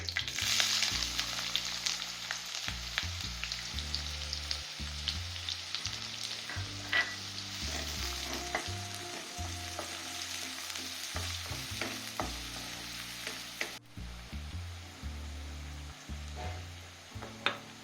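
Onions fry in a pan for chicken curry, giving a steady close sizzle with repeated stirring scrapes and clinks of the utensil, and a low background hum underneath, no talking.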